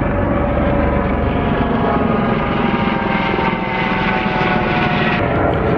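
A helicopter flies overhead in a continuous, loud rotor and engine roar that holds steady throughout with no other sounds.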